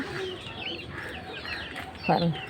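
Chickens cluck and murmur around a farmyard at dawn in drizzly rain, a few soft calls scattered through the clip and one louder cluck near the end, with faint voices in the background.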